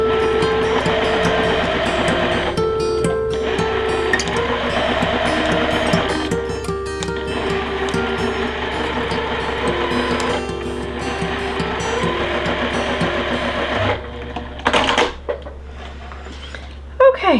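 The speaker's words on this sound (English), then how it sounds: "I'm just gonna sew from corner to corner." Sewing machine stitching a quilt block from corner to corner, a steady close mechanical whir with rapid rhythmic needle pulses running for long stretches, pausing briefly before a few clicks and handling noises at the end.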